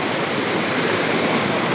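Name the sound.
big high waterfall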